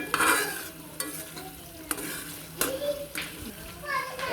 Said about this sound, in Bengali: এই যে এখন মাছগুলা দিয়ে দিচ্ছি, ছোট মাছগুলা।